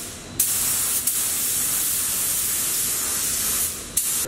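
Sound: spray gun spraying 2K clear coat

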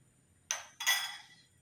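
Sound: stirring chicken soup with a spoon in a pot

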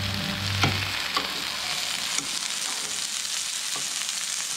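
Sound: prawns sizzling in coconut oil

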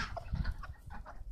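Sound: chickens clucking while eating pizza bread

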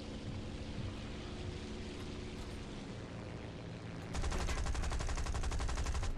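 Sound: gunfire in War Thunder video game dogfight

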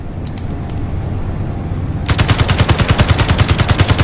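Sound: turret gunfire in Space Engineers video game

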